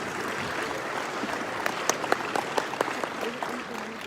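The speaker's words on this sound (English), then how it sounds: "let's give her a round of applause" An audience at an American Enterprise forum applauds Sheena Allen in steady, full clapping that fills the room for a few seconds, with a few louder individual claps standing out.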